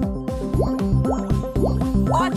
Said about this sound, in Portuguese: Belo espirro d'água!